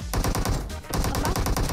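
Rapid automatic gunfire from PUBG Mobile, loud and close, in two sustained bursts separated by a short pause.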